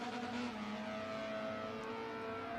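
Racing car engine in a racing video game, a steady, continuous high-pitched drone held at a constant level with no breaks.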